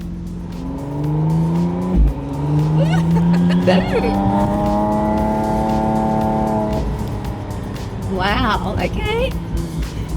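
A 2025 McLaren Artura Spider driving at low speed gives a steady engine note that rises and falls with gentle revving. It stays close and continuous while a person speaks briefly over it.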